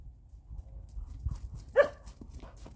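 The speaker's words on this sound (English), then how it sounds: "What are you barking for?" One short bark rings out from a Border Collie amid soft rustling and crunching in snow, fairly near but not loud.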